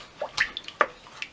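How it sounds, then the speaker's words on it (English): A milk and yeast mixture is poured into a bowl, giving a few soft, irregular splashes and drips spread over a brief moment, close and fairly quiet. "I'm going to add my milk and yeast mixture."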